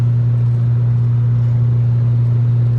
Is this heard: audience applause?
no